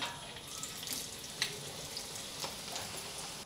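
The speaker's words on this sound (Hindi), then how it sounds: "इसी तरह से बाकी सारे समोसे को फ्राई कर लेती हूँ मैं" Keema samosas fry in hot oil with a steady soft sizzle and crackle, close but fairly quiet, punctuated by a few brief pops, with no talking.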